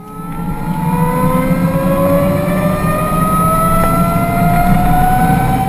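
A Brammo Enertia electric motorcycle passes at full speed, a steady rising electric whine with tonal harmonics climbing in pitch over road rumble, loud and close throughout.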